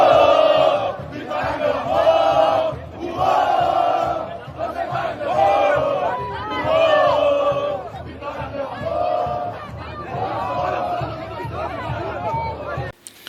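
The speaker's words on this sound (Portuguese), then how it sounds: "Marinho na torcida do Vitória." Vitória football supporters chant loudly in the stands, a massed crowd singing in rhythmic phrases that rise and fall in repeated bursts.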